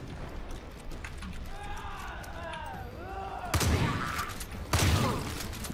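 In Far Cry 5, gunfire aimed at zombies breaks out as two loud bursts of shots in the second half. Before them come softer background effects and scattered shrill cries.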